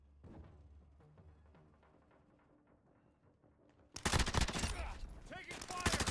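Sudden loud burst of rapid automatic gunfire in a video game firefight, cutting in after a quieter stretch of faint clicks and thuds, then rattling on steadily.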